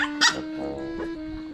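A small puppy gives one sharp, close bark, followed by thin whining tones that fade away.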